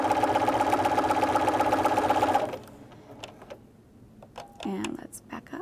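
A sewing machine stitches through a quilted potholder with a fast, steady mechanical whir for a couple of seconds and then stops, followed by quieter handling sounds and a person talking nearby.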